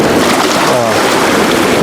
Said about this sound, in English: white caps and the current's moving so strong.